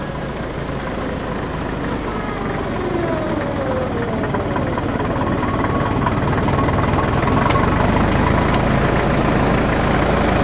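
A restored 1961 Porsche Diesel Master 418 tractor runs steadily in its lowest gear, a loud, continuous low diesel chug and rattle throughout, close by and alone with no talk.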